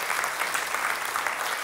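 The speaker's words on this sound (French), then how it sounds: "est-ce qu'on peut l'applaudir ?" A church congregation applauds steadily, a dense wash of many hands clapping throughout the short stretch with no talk over it.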